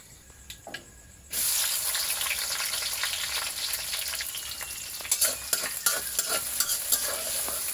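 Chopped onion and garam masala hit hot oil with a sudden loud sizzle that holds steady, then scraping stirs and clinks of a utensil break through the hiss.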